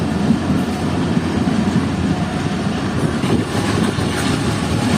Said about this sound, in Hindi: ये ट्रेन मेरे सामने से आ रही है हैदराबाद और कराची के दरमियान चलने वाली